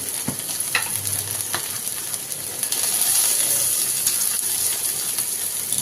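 Okra sautéing with turmeric and salt in a pan, a steady sizzle that swells midway, broken by a few scraping clicks of a spoon stirring it.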